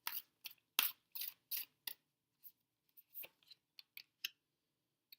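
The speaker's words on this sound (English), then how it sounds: "I'm going to keep shuffling." A tarot card deck being shuffled, a series of crisp, close riffling and snapping bursts in an irregular rhythm separated by short silences.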